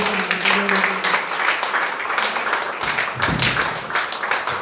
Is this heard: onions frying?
no